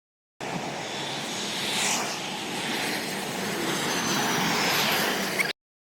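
A passing airplane gives a steady engine roar that swells and eases slightly over several seconds and then cuts off abruptly, with no talk over it.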